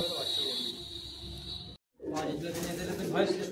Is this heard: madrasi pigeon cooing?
yes